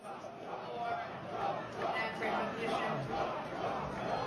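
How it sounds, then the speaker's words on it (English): A crowd shouts and chants "Trump" together in a recording being played back, a continuous loud roar of many voices. "They were yelling Trump."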